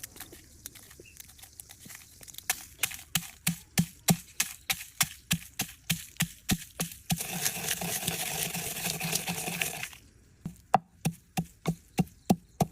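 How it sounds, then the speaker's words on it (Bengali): Crisp fried spices and dried red chilies are pounded in a hamandista mortar with a steady train of loud, close thuds, about two per second, interrupted by several seconds of rough grinding before the rhythmic pounding resumes. "মশলাগুলো কুটা হয়ে গেছে।"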